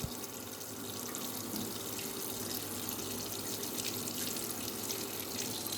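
Tap water flows steadily while lab glassware from a leaf pigment extraction setup is rinsed, a constant soft splashing stream with no talking.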